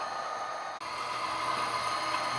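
A model train runs along its layout track with a steady close mechanical hum and rattle, broken by one short dropout before it carries on evenly. No one speaks.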